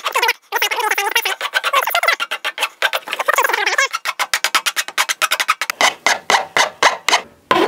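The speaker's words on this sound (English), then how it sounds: "I'm going to use an old rasp here." Old rasp working the wooden handle of a wheel hoe, rapid rasping strokes at first, then slower distinct back-and-forth rasps in a steady rhythm, close and fairly loud with no talk.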